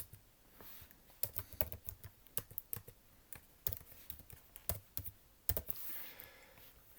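Fingers type on a computer keyboard in quick irregular bursts of crisp, close key clicks with short pauses between runs, and no voices.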